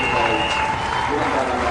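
Stadium crowd at a Test cricket match between Sri Lanka and Australia applauding Mahela Jayawardene's century, a steady, loud wash of clapping and cheering, with a commentator's voice over it.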